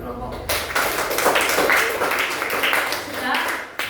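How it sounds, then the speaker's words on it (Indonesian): A classroom of students clapping for a group of classmates after their presentation, a dense burst of close applause with voices chattering underneath. "Oke, tepuk tangan buat kelompok"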